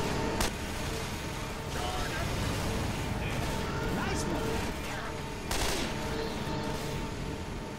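A SCAR rifle firing in burst mode in the video game Left 4 Dead, heard as loud, dense and continuous gunfire with sharper, heavier cracks near the start and again later in the stretch.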